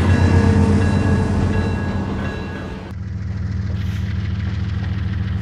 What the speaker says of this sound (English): Coal trains battling the grades to Kokomo Power Plant.